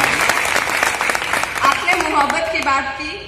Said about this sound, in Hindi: एक बार तालियां बजा करके इनका मान दीजिए।